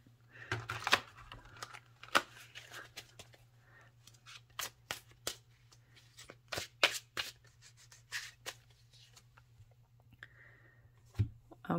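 Tall, oversized tarot cards being shuffled by hand, giving a series of sharp papery riffles and slaps in irregular bursts over a low steady hum, close and fairly quiet.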